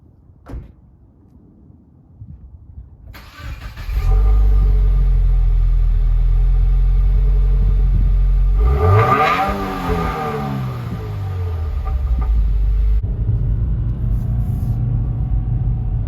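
A Subaru WRX is quiet at first, then its engine starts and holds a loud, close rumble, revs up in a rising sweep midway and settles into a steady driving drone.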